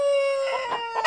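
Rooster with 5-centimeter spurs, a heavy bird, letting out a single close, loud crow with a sustained bright pitch that breaks into rougher bursts at the end.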